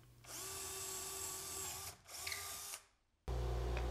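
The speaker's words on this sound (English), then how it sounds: "Now I'm just drilling some holes for some bolts to go through" A power drill whines steadily while boring bolt holes in a router table cabinet, stops briefly, then runs again in a shorter burst before cutting off; close and loud with no talking.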